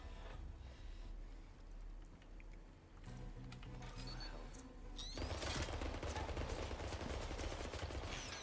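Automated turrets unleash rapid bursts of gunfire in 007 First Light, the shots sparse at first and then a dense, loud barrage for the final few seconds.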